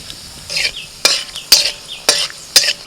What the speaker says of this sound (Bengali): কড়াইতে আরেকটু সরষের তেল দিয়ে দিয়েছি ওর মধ্যে ফোড়নে শুকনো লঙ্কা কালো জিরে